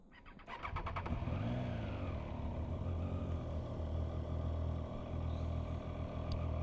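A motorcycle starting up and riding, with a brief starter whir into a steady, loud engine drone and rumble under wind noise, held close for several seconds.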